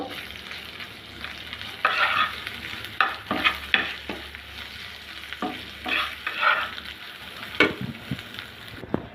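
A utensil scrapes and clacks against a pan in repeated strokes over a steady sizzle of turmeric, chili and coriander powders frying, close up, with no talking.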